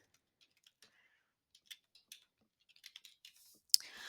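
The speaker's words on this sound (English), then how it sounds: "I'm going to type in all these values" Scattered keystrokes on a computer keyboard enter values into a graphing calculator table, sparse soft clicks that come in a quicker burst toward the middle and end with a sharper final tap, close and quiet with no talk.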